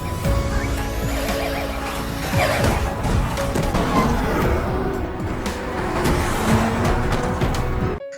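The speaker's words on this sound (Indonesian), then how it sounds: "Tak lama datang sebuah mobil dengan cahaya lampu yang menyala sehingga mengalihkan para zombie tersebut" A car with its headlights on pulls up in a zombie film scene. The engine rumbles steadily with knocks and clatter, fairly loud and close, and no one speaks.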